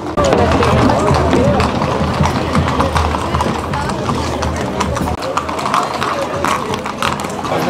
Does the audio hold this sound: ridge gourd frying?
no